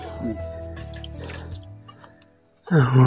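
Water filled from a cold well at a family picnic, a drippy, splashing trickle running steadily under a low tonal hum, with people talking nearby and a louder voice breaking in at the end.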